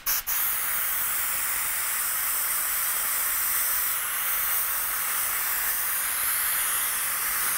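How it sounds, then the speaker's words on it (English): A continuous, even hiss of a spray gun spraying paint at low pressure onto a toy laser blaster for a rusted texture, broad and airy, running without a break after a brief click at the start. "go ahead and spray this to just create that raised, kind of a rusted, corroded texture"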